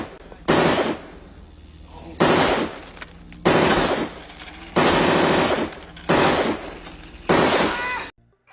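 Six heavy gunshots from a 10mm SIG P320 X10 pistol crack out at a slow, uneven pace, loud and close, each followed by a brief echoing decay.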